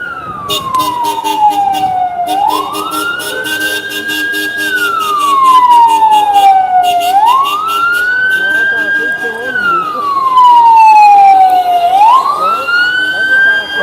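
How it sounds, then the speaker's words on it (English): A loud wailing siren sweeps up and down in repeated slow cycles as an ambulance approaches close by, with traffic rumble underneath. "An ambulance is heading right at me."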